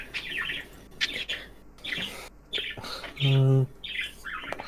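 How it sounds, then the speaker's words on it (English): Birds chirp and squawk in bursts among voices, with one brief louder harmonic call standing out near the middle before fainter tweets return. "My birds were chirping, as you can hear them."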